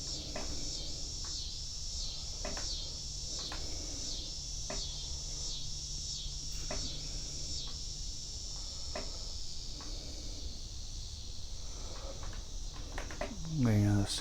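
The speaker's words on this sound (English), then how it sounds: "The cicadas and the frogs and the katydids are going crazy out here." Dense chorus of cicadas, frogs and katydids calling outdoors on a summer evening, a steady high insect buzz with pulsing chirps throughout, fairly loud and continuous, with a brief louder noise near the end.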